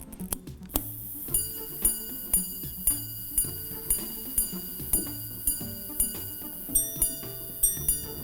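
A white gold wristwatch ticks in an even, regular rhythm, with crisp, distinct clicks about twice a second, heard up close against faint ringing tones.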